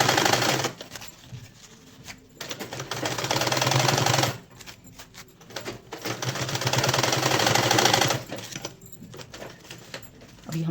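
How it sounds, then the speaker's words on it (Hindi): A sewing machine stitches an elastic strip onto a garment, running in several bursts of steady close mechanical whirring separated by brief pauses. "अभी हमारी सिलाई कंप्लीट हो गई है।"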